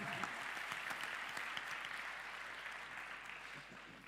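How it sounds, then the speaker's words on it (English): A conference audience applauds panelists at the iGaming NEXT gathering in Valletta, a dense, steady wash of many hands clapping that fills the whole stretch and tapers slightly toward the end. "Let's give a big round of applause to our brave panelists"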